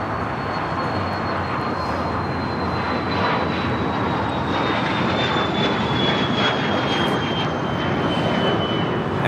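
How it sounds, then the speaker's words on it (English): Cessna Citation XLS jet taking off at LAX, a loud sustained roar of engine noise with a thin high whine slowly falling in pitch, steady throughout. "was a Cessna Citation XLS taking off to Phoenix"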